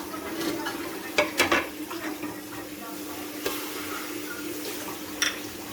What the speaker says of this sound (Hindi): इसके अंदर मैं सबसे पहले जो है प्याज, लहसुन अदरक और हर सब चीज़ें डालूँगी।